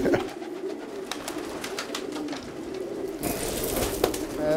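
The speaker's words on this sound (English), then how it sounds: "this is my pigeon loft." Pigeons cooing inside a pigeon loft kept by a white dove release business, soft continuous coos and rustling layered throughout with a brighter burst of activity near the end, no talking.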